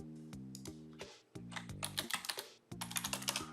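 Fingers type on a computer keyboard. Quick, close bursts of key clicks run in short rapid runs, with a humming tonal background underneath.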